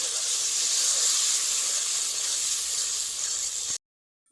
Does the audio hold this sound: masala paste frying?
yes